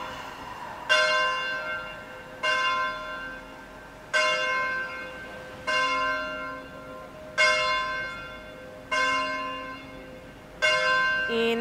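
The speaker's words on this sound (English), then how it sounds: "enjoy the sound of the bells" A church bell tolls eight times at an even, unhurried pace, each strike ringing clear and then fading under the next, with no voices.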